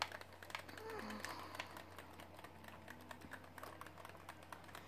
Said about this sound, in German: ich klicke, ich klicke, ich klicke.